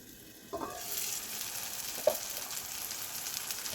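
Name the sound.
onion, tomato and spices sautéing in oil on low flame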